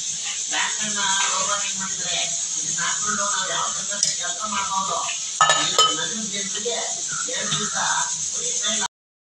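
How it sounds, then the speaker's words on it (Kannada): Steady crackling and popping of mustard seeds, cumin and curry leaves spluttering in hot oil and ghee, close by, with occasional clinks of a utensil against the pan. "ಸ್ವಲ್ಪ ಸಾಸಿವೆ ಹಾಕ್ಕೊಬೇಕು ಸ್ವಲ್ಪ ಜೀರಿಗೆ ಮತ್ತು ಸ್ವಲ್ಪ ಕರ್ಬೇವಿನ ಸೊಪ್ಪು ಹಾಕ್ಕೊಂಡೆ ಅದು ಪಟ ಪಟ ಅಂತ ಸಿಡಿದು ಬಿಡ್ತು"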